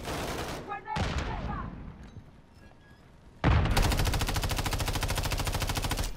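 Gunfire in an online multiplayer shooter game: a loud, rapid, sustained automatic burst hammers on for the final few seconds, after earlier shots and a quieter pause with faint game sounds.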